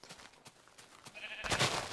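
Video-game sheep being sheared bleat several times; the calls sound synthetic and close, and they repeat over a steady background with brief clicks. The last bleat rises into a louder, brighter burst.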